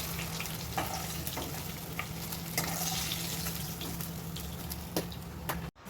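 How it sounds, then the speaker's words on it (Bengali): Potato and fish curry bubbling in a pan, a soft steady simmering hiss punctuated by occasional small pops and clicks, fairly quiet, with no voices. "এখানে ঝোলটা ফুটছে"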